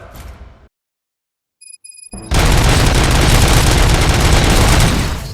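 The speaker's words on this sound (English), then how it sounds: "Gunshots?" Dense, loud gunfire rips through a RoboCop Rogue City game scene. A short hush with faint electronic tones comes first, then a sustained, overlapping barrage of shots up close.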